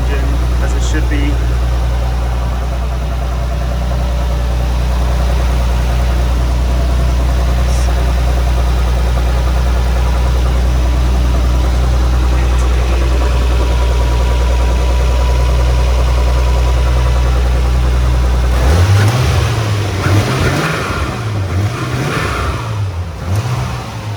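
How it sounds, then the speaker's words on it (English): A 1998 Nissan Skyline R34 GTT engine idles in a steady low rumble for about twenty seconds, then is revved several times in quick rising and falling bursts near the end. "Everything sounds good on the engine,"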